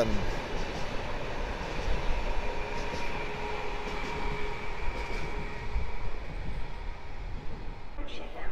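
A PKP Intercity Flirt ED160 electric multiple unit pulls out of a Warsaw platform with a sustained low rumble and faint electric whine, moderately loud and steady throughout.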